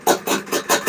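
Honda Odyssey FL350 with a Lectron carburetor idling, a short close run of even, loping engine pulses.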